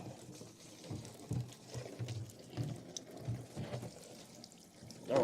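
Coolant spilling from a Honda VTX motorcycle hose while the radiator is drained, a soft, uneven trickle and splashing with faint drips and handling clicks, quiet and close with no talking.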